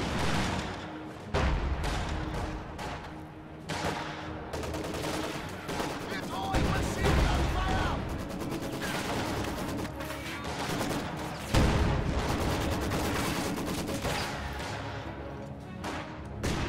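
A war video game battle with T-34 tanks, a Panzer IV and G43 rifles, made up of dense, near-continuous gunfire and booming blasts including a rifle grenade explosion, loud and layered, with a voice commentating underneath.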